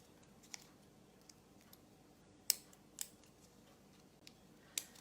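Small stork embroidery scissors snip a few times with sharp, quiet clicks, spaced irregularly against a near-silent background.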